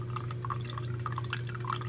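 Water drips slowly from a weak household tap, a steady scatter of small, close plinks against a constant low hum, with no talking.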